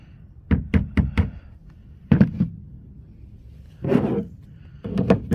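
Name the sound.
lid being set on a water tank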